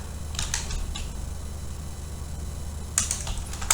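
Switch configuration commands are typed on a computer keyboard in quick clusters of key clicks. Short bursts come near the start and again near the end, with a quiet pause between them and a faint fan hum underneath.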